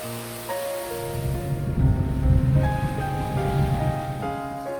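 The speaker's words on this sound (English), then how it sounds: "This is the first waterfall on our way." Roadside waterfall in monsoon rain along a mountain road, a steady broadband rush of falling water, fairly loud and continuous, with some low rumble swelling in the middle and no voices.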